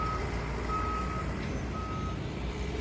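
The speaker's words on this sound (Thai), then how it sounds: "ต้องน้ำรถนะครับรถบรรทุกนะครับมาเทียบข้างนะครับ" Truck backing in beside a cane harvester in a sugarcane field, its reversing alarm sounding a few spaced steady beeps over constant heavy engine rumble.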